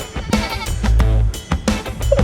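Goats on a small farm bleat loudly and repeatedly at close range, several overlapping wavering cries in quick succession with no talk.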